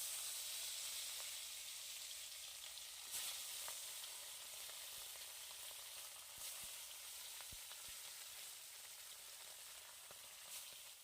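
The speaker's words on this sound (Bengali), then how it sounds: "কড়াইয়ে তেল দিয়ে দিয়েছি এবার মাছগুলো ভেজে" Fish frying in hot oil in a wok, a steady, even sizzle and hiss that holds throughout, with a few faint clinks and small pops rising above it.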